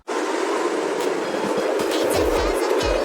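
A train rumbles steadily with rhythmic low clickety-clack thumps from the wheels, loud and continuous throughout with no voices.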